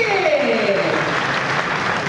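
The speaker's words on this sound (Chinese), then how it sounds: "掌声鼓励。" An audience claps at a press conference for an online game, a dense, fairly loud wash of applause across the whole stretch, with a voice briefly audible early on.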